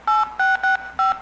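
Four crisp telephone keypad tones in quick succession, each a short clean beep separated by brief gaps, loud and close.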